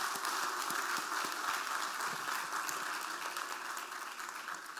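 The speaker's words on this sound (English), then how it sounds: "I request all of you to give a big thunderous applause for our founder president" Applause from a conference audience at an inaugural event, honouring the founder president: a dense, continuous wash of clapping filling the room at steady volume, with no voices over it.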